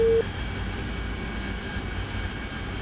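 AV-8B Harrier jet engine in DCS flight simulator drones with a steady low roar and whine during a landing approach, a brief tone cutting off at the start before the engine noise continues evenly.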